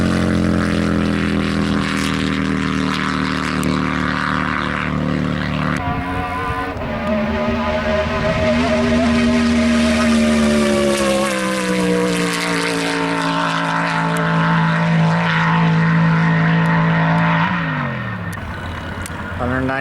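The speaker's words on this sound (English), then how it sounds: "his vintage 1941 Harley Davidson" A vintage 1941 Harley-Davidson with a gasoline-burning 1350cc engine roars past at speed during a standing-mile top speed event, its loud engine note climbing and sweeping as it nears and then fading.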